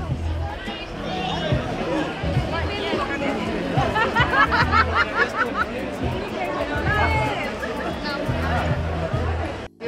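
A dense crowd at the Kalimpong street food festival fills the air with steady, close babble of many overlapping voices and shouts.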